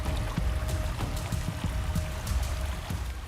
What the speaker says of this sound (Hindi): सामने एक नदी थी जिसकी जलधारा की ध्वनि हमें मंदिर से यहां खींच लाई थी।